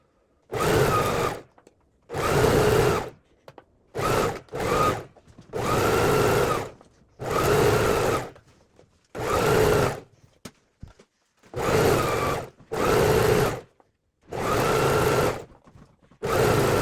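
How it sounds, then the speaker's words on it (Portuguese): A sewing machine zigzag-stitches along the folded edge of a pajama hem in about nine short, loud bursts of a second or so each, with brief silent pauses between runs. "Eu vou dobrar a beiradinha dessa barra pra poder passar o zigue-zague"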